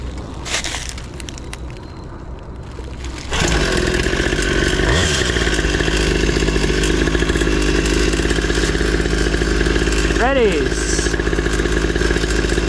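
A cheap Temu 2-stroke pit bike engine buzzes hard through a race, its clutch overheating. After a quieter start it jumps to a loud, steady drone with two sharp revving swells. Excited voices are faintly mixed in.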